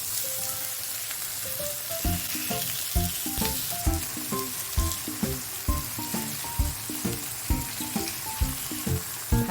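Sliced tofu pan-fries in a pan with a constant close sizzle beneath a run of regular hollow knocks and tonal clinks, likely utensil taps, recurring about twice a second.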